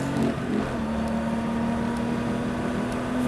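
A car accelerating hard on a circuit, its engine holding a steady, strong drone that rises slightly in pitch and stays close and loud throughout.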